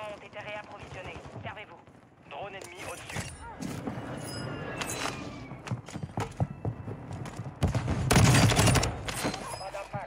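A weapon in a video game fires at a very high rate in loud, rapid bursts. The shooting grows heaviest near the end, while people talk over it in French.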